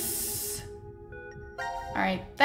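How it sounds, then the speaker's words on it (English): Hissing spray bursts in the Zero Time Dilemma puzzle game, a steady airy spray that cuts off, then a thin electronic tone and a second short hiss near the end, with no talk. "I want to spray things on that thing."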